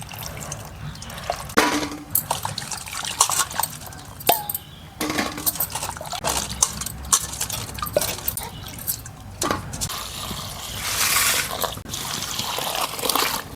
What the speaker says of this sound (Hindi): तो हम नेनुआ को धो लेते हैं खड़े।